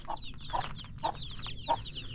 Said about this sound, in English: Got a little chicken family over here.